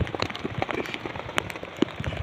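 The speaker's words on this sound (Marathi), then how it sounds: "पण इथं पाऊस आला जोरातच" Heavy rain pelts down on a mountain top, dense irregular patter of drops striking nearby surfaces, close and steady throughout with no voices.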